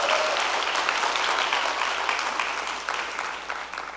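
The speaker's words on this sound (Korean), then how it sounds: "박수" Audience applause at a church event, a steady crowd clapping that fills the whole stretch and tapers slightly toward the end, with no speech over it.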